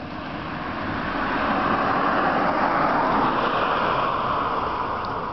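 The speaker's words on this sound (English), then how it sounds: "another car coming now" A car drives past on a road during the day, a broad steady rush of tyre and road noise that swells toward the middle and fades slightly, heard alone with no talk.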